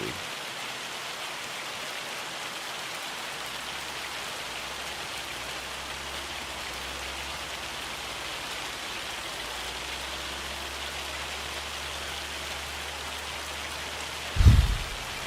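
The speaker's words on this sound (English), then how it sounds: "this rain's driving me nuts. Let me get out of this rain" Steady rain falls in the video game Farming Simulator, a constant hiss of downpour with a low engine rumble underneath, ending in a brief thump near the close.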